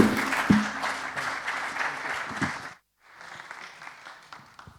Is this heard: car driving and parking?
no